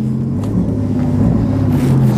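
A water motorcycle's engine idles in neutral with a loud, steady low rumble and droning hum heard up close, swelling slightly toward the end.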